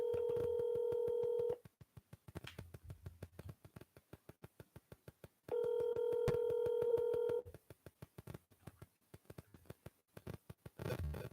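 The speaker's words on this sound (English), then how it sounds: "That's why I use a dialer. It makes it a lot easier than hand dialing. You don't have to wait while it dials." An automatic phone dialer plays two long steady dial tones, each followed by a rapid run of clipped touch-tone beeps, clear and close in a quiet office setting.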